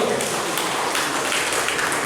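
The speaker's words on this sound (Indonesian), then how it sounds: "Tepuk tangan dong" Audience applause fills a conference hall at a regional NU council gathering, a steady dense wash of many hands clapping at once, fairly loud and even throughout with no speech over it.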